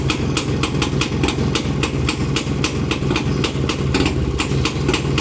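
A restored Rajdoot 175 motorcycle engine idles after a kick start, giving a loud, steady, close-up rumble with a rapid, even beat of exhaust pulses that holds throughout.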